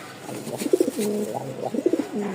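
Racer pigeons coo in repeated throaty bursts, a pair of soft rolling calls around the middle and again near the end, close and clear with no voices.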